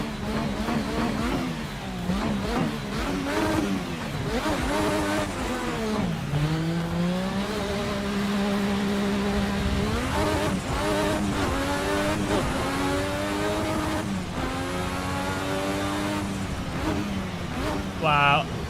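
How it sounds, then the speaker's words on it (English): A Formula RSS 1986 V6 race car engine in Assetto Corsa revs loudly and continuously, climbing and dropping through gear changes with sustained high-pitched whine, a brief tire squeal near the end, and a voice talking over it. "Let's turn the audio up of the engine now."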